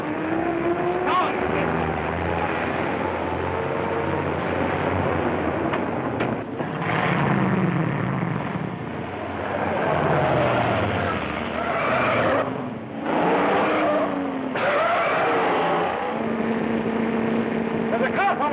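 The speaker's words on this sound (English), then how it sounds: "There's a car following us!" A car in a 1938 mystery film chase drives hard with squealing, skidding tires, engine noise rising and falling, loud and near, with voices shouting over it.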